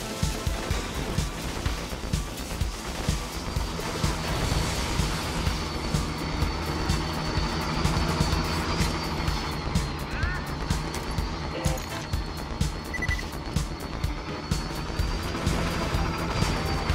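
Thudding helicopter rotors and engine drone fill a Borderlands 2 scene alongside bursts of gunfire and explosions, a busy, layered battle din.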